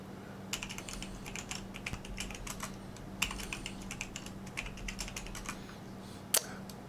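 A password is typed on a computer keyboard at a Linux terminal. The key clicks are faint and irregular, with a few sharper taps standing out over a low background hum.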